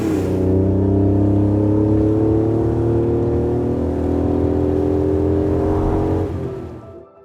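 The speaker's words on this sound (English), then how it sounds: "I drive a 1991 Acura NSX." A 1991 Acura NSX engine runs at a steady high rev, a loud, close, sustained whir that holds for several seconds before easing off and fading at the end.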